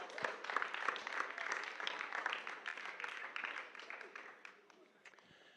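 Brisk applause from a small group at a voice-over training session, moderately close and fading out over a few seconds.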